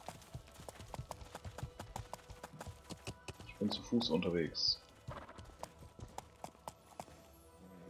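Horse hooves clip-clop in steady rhythm through the medieval game Life is Feudal, fairly faint and running the whole time beneath people talking.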